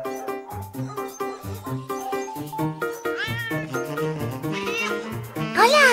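Cartoon cat meowing repeatedly in a series of clear, tonal mews at close range, over a bouncy musical backdrop, with a longer drawn-out meow at the end.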